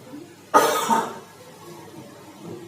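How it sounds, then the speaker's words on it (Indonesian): A single cough bursts out near the start, loud and close, then fades into quiet room noise during an Indonesian religious lecture on fasting. "Kenapa kok batuk?"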